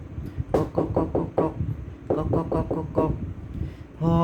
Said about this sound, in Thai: ได้ยินเสียงกำนันลีเคาะเกราะเพื่อ เรียกประชุมด่วนอีกแล้ว